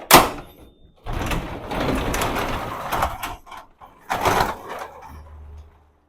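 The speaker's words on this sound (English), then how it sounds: "I need to open a door" A door slides open with a rolling rumble and rattling, followed by a second scraping slide and a faint low hum afterward.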